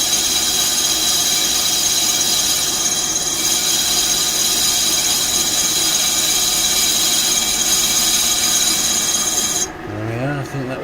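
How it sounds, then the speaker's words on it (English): A lathe's boring bar cuts a chamfer on a car brake disc, giving a steady, loud rasping scrape that runs unbroken for about ten seconds, then stops abruptly as the spindle winds down with a falling whine. "So now we've changed the angle of the boring bar so that we can use it to cut our chamfer."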